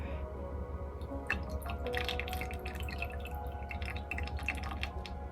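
Water drips and trickles off a Barbie Color Reveal Disco Star doll just lifted out of water, a run of small, close, irregular drops and soft wet splats over a steady low background hum.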